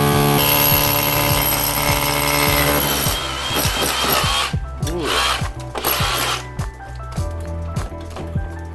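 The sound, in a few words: drill boring through rock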